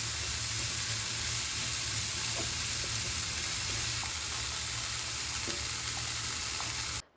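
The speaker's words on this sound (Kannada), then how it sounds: "ಈರುಳ್ಳಿ ನಾವು ಕಟ್ ಮಾಡ್ಕೊಂಡಿರೋದು, ಮಶ್ರೂಮು, ಬ್ರಾಕೊಲಿ ಎಲ್ಲ ಹಾಕಿ ಚೆನ್ನಾಗಿನ್ನ ಸ್ಟರ್ ಫ್ರೈ ಮಾಡ್ತೀನಿ" Onion, mushroom and broccoli stir-frying in a pan, a loud steady sizzle throughout with a few faint scrapes of stirring, ending abruptly.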